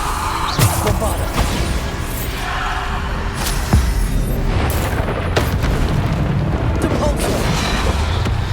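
Bombarda blasting spell in the Hogwarts Legacy video game, heard as repeated booming explosions and crashes amid combat effects, loud and dense, with a voice shouting in places.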